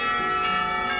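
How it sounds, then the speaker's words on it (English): A school lunch bell rings in the visual novel Katawa Shoujo, a loud sustained electronic chime with steady ringing tones and no voices. "The lunch bell rings, signaling our return up downstairs."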